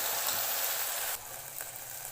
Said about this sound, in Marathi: तर इथं तेल गरम झालेलं आहे मी मसाला टाकून घेते